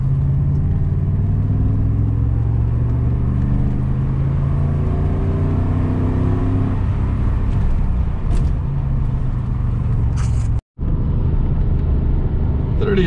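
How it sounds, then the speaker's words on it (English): A car engine pulls hard in third gear from around 40, its low rumbling note rising steadily for several seconds, then easing off with a brief dropout near the end. The sound is loud and close, with no talk over it. "Third is really a little slow for a third gear pull"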